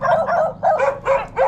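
Several dogs belonging to a man at a simple rural house bark in quick, repeated bursts, close and fairly loud, with short pauses between volleys.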